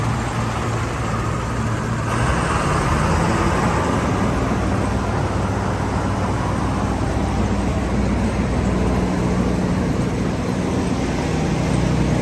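A model 1075 combine harvester idles with its engine running, producing a loud, steady mechanical drone that holds throughout, with a slight shift in tone early on and no talk over it.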